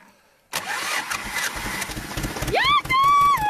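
A tractor engine cranks under a steady, loud starter whir, then catches briefly with a rising whine before settling into a rough, revving mechanical run, with a voice talking nearby.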